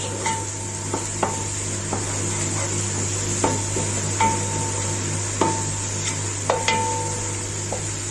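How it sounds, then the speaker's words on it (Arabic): Steady sizzling of onion frying in a pan, with occasional clinks of a utensil against the pan over a constant low hum. "ادي البصله اهي شكشكت معايا"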